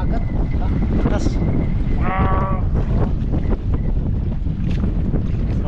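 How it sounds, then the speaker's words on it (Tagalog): Loud, constant strong wind roaring and buffeting a microphone on a fishing trip, with a brief tonal bleat-like sound and some voices mixed in the rush. "Grabe yung hangin"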